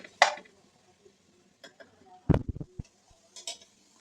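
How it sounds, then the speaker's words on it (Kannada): A metal spoon scrapes and clinks against a pan while mushroom biryani masala with yogurt fries on low flame. The sounds are quiet and scattered, with a few sharper knocks and soft scraping between them. "ಲೋ ಫ್ಲೇಮಲ್ಲಿ ಇಟ್ಕೊಂಡು ಇದನ್ನು ಫ್ರೈ ಮಾಡ್ತಾಯಿದ್ದೀನಿ."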